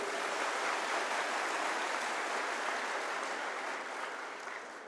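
A dense, continuous wash of audience applause fills a live Guru Purnima festival gathering, loud and steady throughout before easing slightly near the end.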